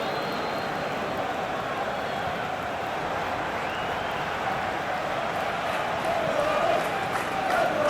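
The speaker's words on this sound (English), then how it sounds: "Well, the crowd aren't happy." Steady low murmur and roar of a disgruntled football stadium crowd at a Premier League match between Brentford and Arsenal in a video game simulation, continuous and fairly loud, with faint whistles and jeers rising toward the end.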